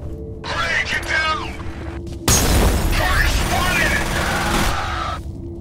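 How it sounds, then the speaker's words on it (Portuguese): A grenade explodes in the shooter game F.E.A.R. with a sudden loud boom that rolls into a long crackling roar and debris rumble, following a stretch of quieter gunfire and game noise. "Caramba, essa granada é muito legal, velho."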